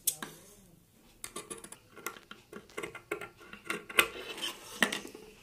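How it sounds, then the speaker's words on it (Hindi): Scissors cut fabric along the back neckline of a round-collar garment, making a close series of crisp snips and small clicks at an uneven rhythm. "अब हमने पीछे वाले गले में बिल्कुल थोड़ी सी काट डालनी है"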